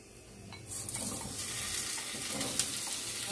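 Pointed gourd goes into a pan of hot oil with capsicum, ginger, garlic, green chillies and onion, setting off a sudden loud, steady sizzle that continues close up, with a brief clink partway through and no talking.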